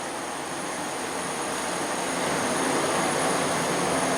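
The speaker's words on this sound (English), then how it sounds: "we need to keep this blower on" A blower runs during UV ozone treatment in a lab molecular printing setup, a loud steady broadband whoosh with a faint high whine, constant and close, with no talk.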